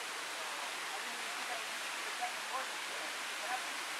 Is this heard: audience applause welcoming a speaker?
no